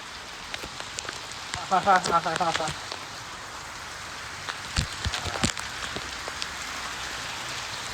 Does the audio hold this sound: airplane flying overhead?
no